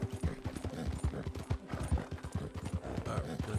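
Horse hooves clip-clop in a steady, rapid rhythm throughout a Red Dead Redemption 2 gameplay scene, close and fairly loud with some background game sound and no talk.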